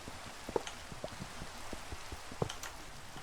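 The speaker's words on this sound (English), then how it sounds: "get rid of this bloody rain" Rain in Minecraft, sparse raindrop taps and soft patters scattered over a quiet, steady hiss.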